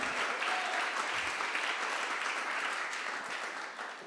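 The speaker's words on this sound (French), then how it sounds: "on peut applaudir Fudo et Clément." Applause from an audience at a startup demo day in Paris, dense steady clapping that stays fairly loud and even throughout, easing slightly toward the end, with no voices over it.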